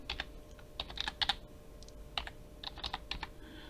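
Quick, light clicking of computer keys, typed close by in short irregular bursts with brief pauses, no voices.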